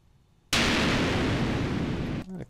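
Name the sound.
explosion sound effect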